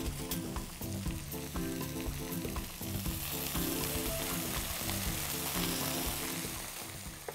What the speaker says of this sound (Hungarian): Kicsit összeforgatom a ragut. Láthatják, hogy a padlizsán magába szívta az összes olajat.